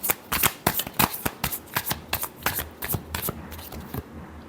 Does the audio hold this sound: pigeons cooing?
no